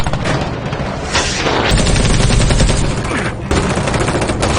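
Dense, continuous gunfire and explosions from a police shootout in an action film scene, loud and sustained with rapid bursts and heavy booms throughout, no talk.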